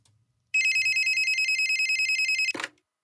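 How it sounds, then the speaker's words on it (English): Electronic telephone ringer trilling in a steady rapid pulse for about two seconds, loud and close, then breaking off with a short clunk as the call is picked up; no talking over the ringing. "I'm actually getting a phone call right now."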